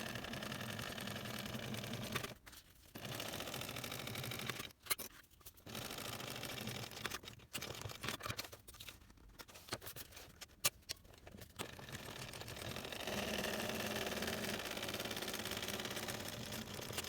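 A sewing machine stitching a flap onto a backpack, running in a fast continuous whir with several brief stops and restarts, then sewing steadily to the end.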